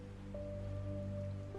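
Rain falling on a stormy night in a Hindi horror story: a steady, soft hiss of rain with a low drone and faint sustained tones under it.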